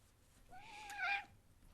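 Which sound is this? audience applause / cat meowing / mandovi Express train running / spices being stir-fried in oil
cat meowing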